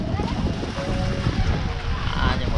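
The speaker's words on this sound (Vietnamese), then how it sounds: "Đây, mọi người đang lên mực trong cảnh mưa gió." Wind and rain at sea aboard a squid fishing boat, a continuous rough rush of gusting wind and water noise buffeting close to the microphone throughout.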